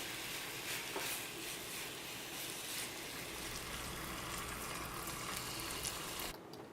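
Chicken pieces sizzle steadily in a pan over heat for pasta with pesto and sun-dried tomatoes, a continuous fizzing hiss with occasional stirring, close and even, with no talking.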